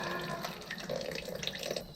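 Water draining from a GE water dispenser valve line into a container, a steady trickling, splashing flow with faint dripping, close and continuous for the whole short stretch.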